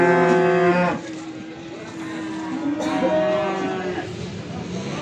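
Cattle at a livestock market in Beylagan moo in long, loud, drawn-out calls, one near the start and another in the middle, with crowd noise and faint voices behind.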